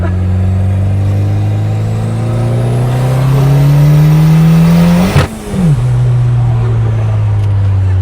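A BMW M4's engine revs hard, pitch climbing steadily, then cuts sharply before settling back into a loud, steady drone close by.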